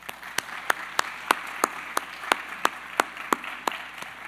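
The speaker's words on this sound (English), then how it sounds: "So let's just give them a short round of applause." Short round of applause from a university forum audience, a sparse patter of clapping with a few sharp, distinct claps standing out, moderately loud and fading over about four seconds.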